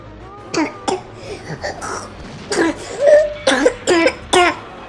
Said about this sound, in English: I need to schedule her that doctor's appointment for that cough